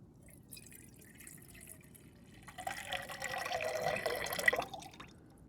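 Water poured through a sock used as a filter into a cooking pot outdoors, a soft trickle and drip that swells into a steadier splashing stream over the last few seconds, close and fairly quiet, with no talk.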